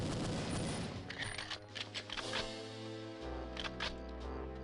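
Gunfire in the video game Perfect Dark: a dense burst of rapid shots at the start, then scattered louder single shots over a droning game music background.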